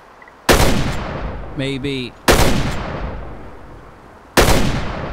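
Loud slug shots crack out in the hunting game Way of the Hunter during a gray wolf hunt, three spaced booming blasts with decaying tails, and a short spoken word between the first two.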